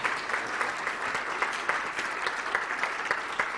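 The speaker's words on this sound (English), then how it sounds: "I would like to ask everyone to give a round of applause to our panel" A constituency hustings audience in Ealing Central & Acton applauds its panel with a moderately quiet round of steady, crowded clapping and scattered sharper claps, lasting a few seconds.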